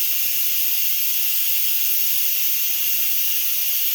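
Steady, loud hiss of steam venting from an Instant Pot on quick release after cooking potatoes, a continuous bright rush holding constant for the whole stretch with no voices over it.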